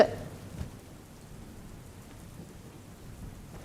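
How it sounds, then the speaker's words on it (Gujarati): Heavy torrential rain pours steadily in Kamrej taluka during a monsoon downpour, a dense continuous hiss with a brief louder burst near the start and no voices. "કામરેજ તાલુકામાં ધોધમાર વરસાદ વરસ્યો છે"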